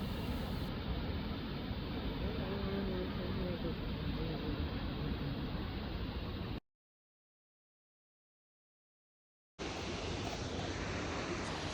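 The Dhangdhange waterfall in Taplejung roars as a broad, dense rush of falling water close by, steady and loud, broken by a stretch of complete silence before resuming.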